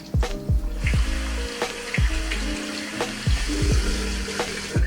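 Tap water runs steadily over a hand being rinsed at a sink during a safety-razor shave, with close splashing and a few sharp knocks, and no talking.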